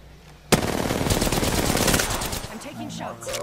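Video game gunfire erupts abruptly into a sustained burst of rapid automatic shots, loud and close, then fades into scattered game noise.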